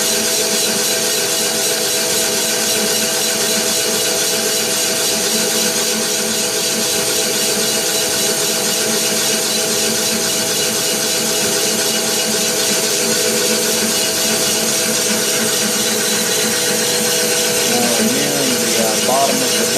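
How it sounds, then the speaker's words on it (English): Funderburk speed boring bar cutting an engine block cylinder bore, down at the webbing at the bottom: a constant loud grinding machining drone with a faint squeal, steady for the whole stretch. "you want to keep on cutting the webbing at the bottom of the block"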